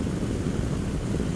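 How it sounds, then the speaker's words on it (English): A light aircraft's piston engine idles steadily while warming up on a taxiway, a continuous low droning rumble at close range with no voices. "sitting on the taxiway and waiting for the engine to warm up"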